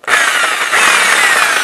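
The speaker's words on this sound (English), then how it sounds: "Then I decided I was going to try my jigsaw, and I got a fairly fine-tooth blade in there and just slowly started going around" A jigsaw with a fairly fine-tooth blade cuts slowly through scrap wood, a loud, steady, close buzzing rasp that runs without a break, with no voices.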